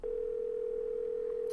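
A steady, unbroken telephone dial tone in the Nancy Drew game Secret of the Scarlet Hand, starting abruptly and holding a single constant pitch at even loudness throughout.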